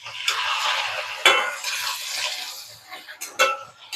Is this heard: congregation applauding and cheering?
no